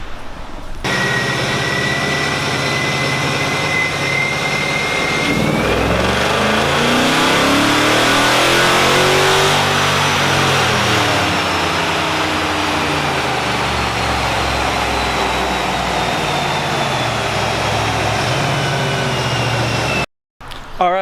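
A bolt-on 5.7 Hemi V8 with stainless long-tube headers and a tune revs hard on a dyno, the engine climbing and sweeping through its range in one long loud pull before cutting off abruptly near the end.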